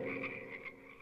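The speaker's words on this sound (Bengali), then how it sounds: "দিনরাত ব্যাঙের ডাক আর বৃষ্টির শব্দ।" A chorus of frogs croaks during the rainy season, with overlapping calls pulsing steadily and densely, fairly close and alone.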